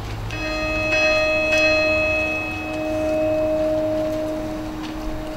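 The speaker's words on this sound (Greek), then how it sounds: "Λένε ότι οι καμπάνες των εκκλησιών χτυπούσαν πένθυμα 5, 7, 8 φορές την ημέρα" Church bells toll slowly and mournfully, a steady ringing tone that sustains and hums between strikes, with a few fresh strokes near the start. Moderately loud against a soft, airy outdoor background with no voices.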